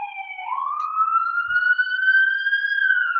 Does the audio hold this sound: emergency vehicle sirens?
yes